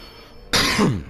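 A person gives one brief, loud, harsh cough or throat-clear that starts suddenly from quiet room tone and rasps for about half a second.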